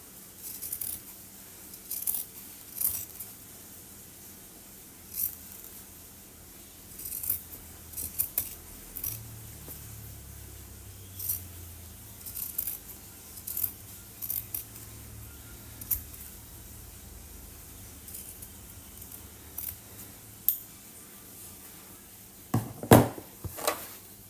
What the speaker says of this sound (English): But then we'll go in and around, try and cut those corners away.